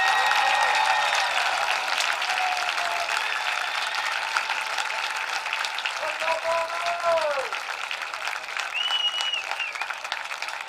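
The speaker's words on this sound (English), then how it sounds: "would you please rise and give these young men a round of applause" A crowd at a high school football stadium applauds the home team in a sustained, dense wash of clapping from many hands, with a faint voice and tones drifting over it.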